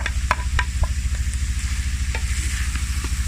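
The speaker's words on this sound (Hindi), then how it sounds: "अब इसमें शिमला मिर्च, बंद गोभी और प्याज वो शामिल करेंगे।" Capsicum, cabbage and onion stir-fried for chicken macaroni sizzle steadily and up close, with repeated scraping clinks of a spatula against the pan in a quick, regular rhythm.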